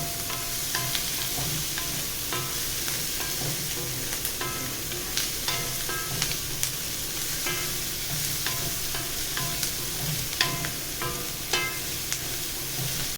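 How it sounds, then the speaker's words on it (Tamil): Banana stem poriyal sautéing in a pan on the stove, a constant sizzle punctuated by regular scraping clinks of a spatula stirring, close and fairly loud throughout, with no talking. "காய் வதங்கிட்டு இருக்கு."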